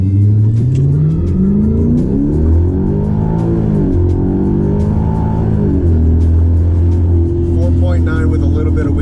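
A 2012 Hyundai Genesis 5.0 R-Spec with about 140,000 miles launches hard from a stop, its V8 engine rising through the gears while the rear tires spin; loud, steady, from inside the car.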